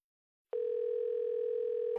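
A loud, steady electronic telephone tone begins abruptly after half a second of silence and holds unbroken to the end, as a mother-in-law calls a household.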